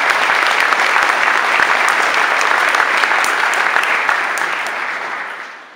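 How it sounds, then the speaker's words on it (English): A large graduation-ceremony audience claps steadily and loudly for the new inductees, a dense sustained applause that carries on without a break before slowly tapering off at the end. "I would appreciate a round of applause for that."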